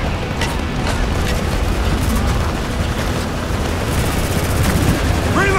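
Loud, dense gunfire in Spec Ops: The Line, with continuous automatic bursts and heavy battle noise filling the whole stretch, plus scattered sharper cracks from nearby.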